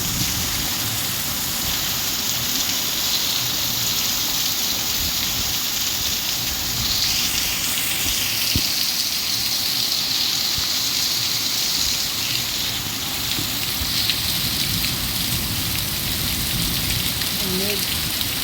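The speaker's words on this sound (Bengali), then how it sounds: "এখন দেখো কি জোরে বৃষ্টি হচ্ছে" A nighttime downpour drums hard and without pause, its thick hiss of rain on surfaces holding steady from start to finish while no one talks.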